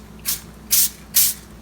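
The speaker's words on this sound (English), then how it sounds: "Rule number 1, always spray your rubber paper with a little aerosol oil." Aerosol canola oil sprays onto rubber cooking paper in three short, close hissing bursts, each under a quarter second, separated by brief pauses.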